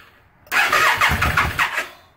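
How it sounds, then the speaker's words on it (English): A cold motorcycle engine with the choke fully out cranks and sputters after a silent start, firing in uneven bursts without catching. "I'm going to attempt to start my bike,"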